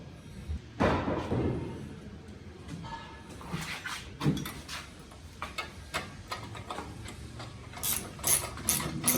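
Ratchet clicks and metallic tool mechanisms as M8 bolts are snugged on a Honda CB500X skid plate using a 10 mm socket and 13 mm wrench, the bursts of clicking irregular and close, with no talk.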